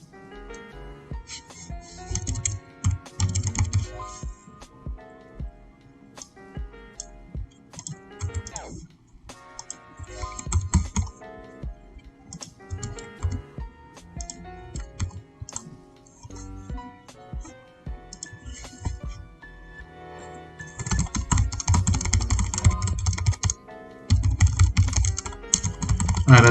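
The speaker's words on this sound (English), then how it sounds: "Alright, I'm typing out something." Someone types on a computer keyboard in long bursts of rapid, clattering keystrokes with short pauses between them, close and busy, growing louder and denser toward the end.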